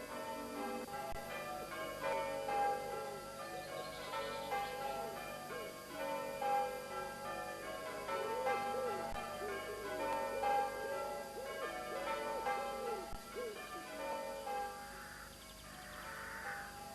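Church bells peal in a steady, overlapping change-ringing pattern, several bells striking in repeated rounds at moderate distance, village church in Peasmarsh in November, with a faint background hum and no talk.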